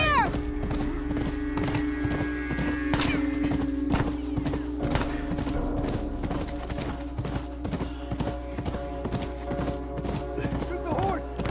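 Horse hooves clip-clop steadily amid video game background noise, with a horse whinnying and people talking over it.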